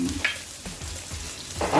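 Chopped onion hits a little hot oil in a pan, giving a brief crackling sizzle with sharp spits and stirring noises, close and clear.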